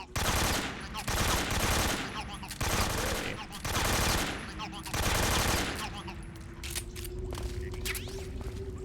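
Bursts of AK-47 automatic fire in Metal Gear Solid 3, loud and close, five or so sustained rattling volleys separated by short gaps, then quieter scattered shots and mechanical sounds.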